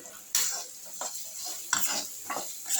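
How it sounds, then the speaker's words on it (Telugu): Masala and chapati noodles sizzle and fry in a pan, heard close with a few brief scraping stir strokes over a steady soft hiss. "ఈ మసాలా మొత్తం వేసుకొని ఫ్రై చేసుకోవాలి."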